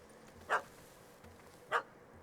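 Two short, faint barks from a dog in The Witcher 3: Wild Hunt next-gen update, spaced about a second apart over a quiet game background.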